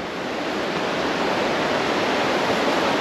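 A mountain river in the Écrins rushes steadily, its dense broadband roar close and continuous with no pauses and no voices.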